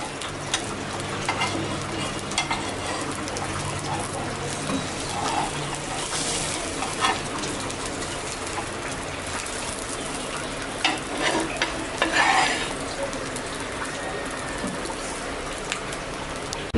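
An egg roll fries in a pan with a steady, close sizzle and crackle, broken by occasional scraping and stirring sounds as it is rolled; no one speaks.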